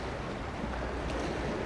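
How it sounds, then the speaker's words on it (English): Water and waves along a bay in the morning, a steady broadband wash of surf mixed with wind rumble against the microphone, continuous and fairly close with no voices. "The sound of the water,"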